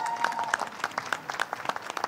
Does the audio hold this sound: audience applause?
yes